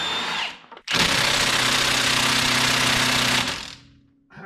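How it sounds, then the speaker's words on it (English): Power tool, likely an impact gun, runs loud and steady for about two and a half seconds while removing bolts from a Toolcat transaxle, then winds down and trails off. "So I'm just going to take the rest of those bolts out."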